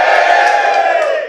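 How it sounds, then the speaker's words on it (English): A live audience at a cycling event roars and whoops in a loud, sustained cheer for Wout van Aert, a dense crowd wall of sound that holds steady before tapering slightly at the end. "Give me a cheer if you love Wout van Aert."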